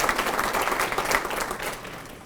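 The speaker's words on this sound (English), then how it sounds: "We're still going to give him a round of applause." A student awards crowd applauds an absent award recipient, brisk clapping from many people that holds strong before thinning and fading near the end, with no one talking over it.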